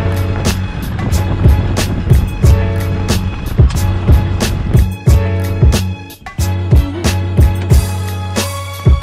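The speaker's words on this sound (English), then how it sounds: "Yeah, the truck's loud" A loud truck drives past on a rural Oregon road, a steady heavy engine rumble with sharp rattling clatters and bumps repeating throughout, close and continuous.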